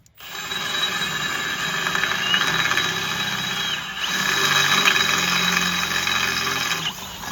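A power drill bores a bit into steel while fitting a steel bumper onto a second-generation Ram pickup, a loud steady whine with slight pitch shifts and a brief dip midway, no talking.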